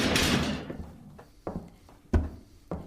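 A heavy prison cell door in a radio play opens with a long scraping creak, followed by several sharp metallic clunks and knocks spaced over a few seconds, fairly close and with no talk over it.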